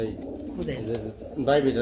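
Pigeons coo at a pigeon seller's stall in a short, fairly close burst of soft calls, with people talking over them.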